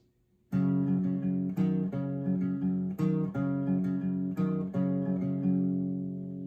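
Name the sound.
guitar playing fourth line of a song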